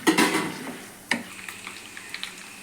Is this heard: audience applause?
no